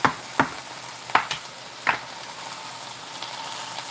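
Garlic frying in a hot pan, a bright steady sizzle broken by four sharp clacks of a utensil stirring and scraping in the first two seconds, then an even hiss alone.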